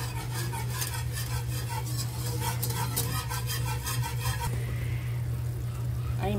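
Stirring ginataang ampalaya with shrimp in coconut milk, a utensil scraping rhythmically around the pan over a faint simmer, with a low steady hum beneath.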